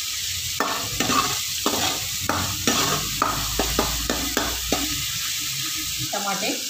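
Curry leaves drop into hot oil in a pan and crackle, with repeated scraping stirs over a steady sizzle, close and loud; a voice speaks faintly underneath.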